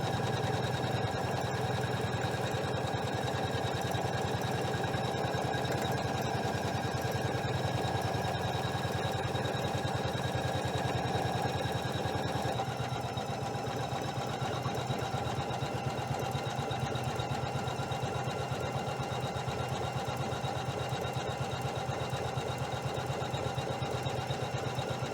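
Janome 500E embroidery machine sewing a satin stitch, a fast continuous whirring buzz with even rapid needle pulses, close and steady throughout with a slight change in tone midway, no talking.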